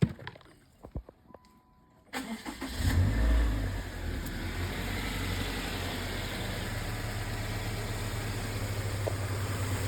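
A Subaru Outback engine cranks and catches after a couple of seconds of quiet clicks, then revs up loudly and settles into a steady, close idle.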